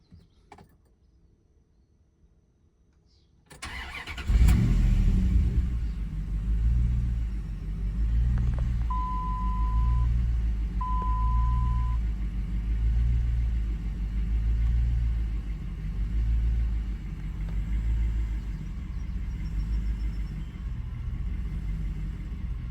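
Car engine idling steadily during idle timing tuning, a low pulsing rumble that starts a few seconds in after near silence and continues alone, with two brief tones partway through.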